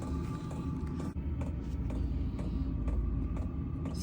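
A Vespa scooter engine idling after a refresh, a steady low rumbling putter running continuously close by with no talk.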